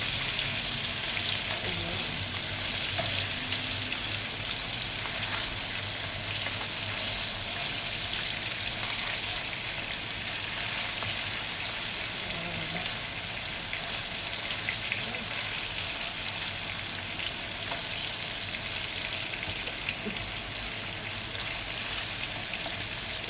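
Salmon sizzles in a pan over high heat, a dense, continuous crackling spatter that holds steady throughout, with faint speech now and then under it.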